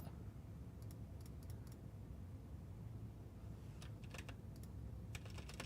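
Typing on a computer keyboard during an unboxing, quiet bursts of clicking keys in a few quick clusters separated by pauses, with a low room hum underneath and no talking.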